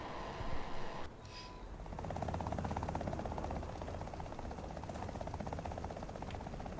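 Steady rotor drone and engine hum from a helicopter in War Thunder combat, moderate and continuous after a brief louder burst at the start.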